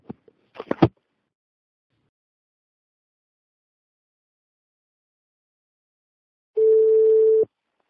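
A telephone line tone heard while calling a home phone: a few faint clicks, a long silence, then a single steady tone lasting about a second.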